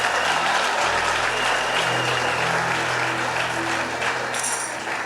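A church congregation claps and cheers in sustained, dense applause that fills the room, a crowd sound with no speech over it.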